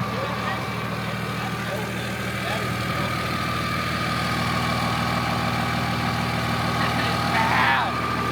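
A large turbocharged engine idles steadily with a low, constant rumble and a faint whine above it. The drone stays even throughout, with a brief rise near the end.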